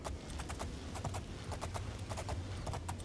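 A horse's hooves clip-clop at a steady walking rhythm in the fantasy video game Oblivion, quiet and even over a low background.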